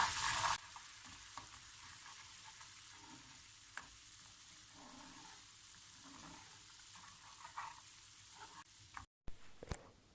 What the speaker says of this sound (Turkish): Şimdi nane, karabiber, pul biber, tuz, bir çay kaşığı da hepsini ekliyorum ve karıştırıyorum.